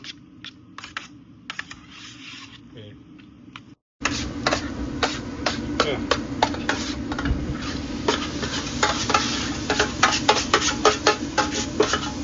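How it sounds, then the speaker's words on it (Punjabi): Marinated chicken hits a hot spice tadka in a pan, a brief quiet stretch giving way to a sudden loud, dense sizzle with rapid crackling pops that continue close up. "ਜਿਹੜੇ ਦੋ ਨੂੰ ਮੈਰੀਨੇਟ ਕਰਕੇ ਰੱਖਿਆ ਹੋਇਆ ਇਹਨੂੰ ਮਸਾਲਾ ਮਸਲਾ ਲਾ ਕੇ ਤੜਕਾ ਬਣ ਗਿਆ ਬਸ ਇਹਨੂੰ ਤੜਕੇ ਦੇ ਵਿੱਚ ਛੱਡ ਦੇਣਾ"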